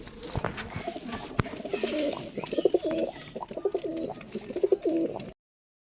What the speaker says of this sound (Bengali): দুইটা এক জোড়া এটা নর এটা মাদি এটা বাচ্চা কবুতর